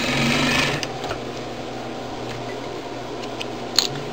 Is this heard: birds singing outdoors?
no